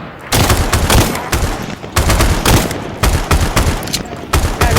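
Rapid bursts of automatic gunfire in a tactical assault match of the VR shooter Chicken VR, loud and close, in repeated clusters with short pauses and faint voices underneath.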